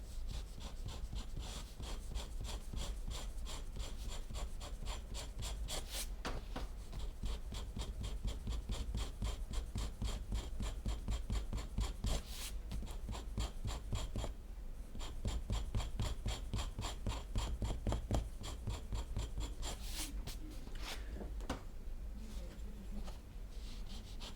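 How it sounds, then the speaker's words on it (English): A Kento knife scrapes across a carved woodblock in quiet, repeated rasping strokes, close up and soft, with short pauses between bursts. "My poor Kento knife here saying I shouldn't be using it this way as a scraper"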